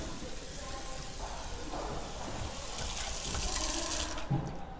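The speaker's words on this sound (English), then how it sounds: "And then a new flexible spray." Running water sprays from a Quooker Flex flexible spray tap into a sink, a steady close splashing that grows slightly louder before stopping abruptly.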